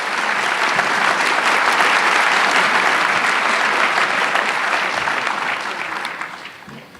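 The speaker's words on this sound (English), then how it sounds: "I would ask that you give them a round of applause for their support in being here." Audience at a public forum on freight train parking breaks into sustained, dense applause, loud and steady for several seconds before fading toward the end.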